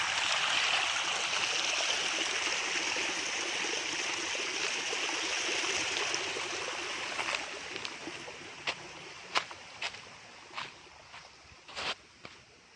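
Irrigation water flowing steadily through a date palm orchard in Saudi Arabia, a continuous rushing trickle that fades somewhat, later punctuated by sharp clicks and knocks.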